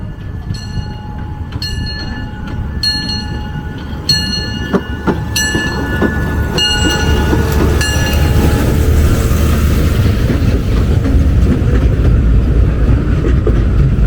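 A small forest tourist train at Ecoland Jeju rolls along steadily with a continuous low rumble of wheels on track, a few sharp high squeals and metallic clicks early on, then an even, loud running drone.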